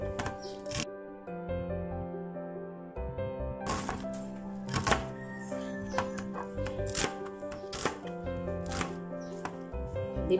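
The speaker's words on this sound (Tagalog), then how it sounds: "Simulan na po natin yung pagsa-slice niya" A knife slicing an onion on a cutting board, a close run of sharp irregular chops and clicks, heard alone.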